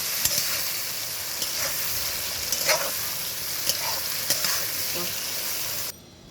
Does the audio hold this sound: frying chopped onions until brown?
yes